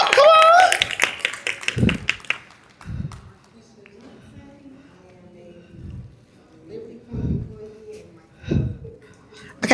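Scattered, uneven handclaps from a group at a community meeting, loud at first then thinning to sparse claps, with people talking over and between them.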